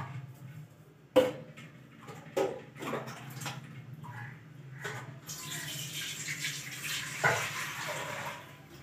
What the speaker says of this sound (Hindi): थोड़ा सा इसमें डालूंगी पानी, ज्यादा नहीं